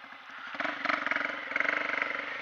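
A motorcycle fitted with an Atala exhaust runs close by, its engine putting out a rapid pulsing burble that swells into quick rhythmic throbs as the revs rise and fall, moderately loud with no voices.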